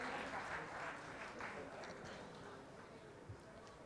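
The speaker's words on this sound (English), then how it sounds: "Ladies and gentlemen, a huge round of applause for Rajdeep Sardesai." Audience applause at a conference stage during a journalism ideas conclave, a steady wash of clapping sustained throughout and fading slightly toward the end, with faint voices underneath.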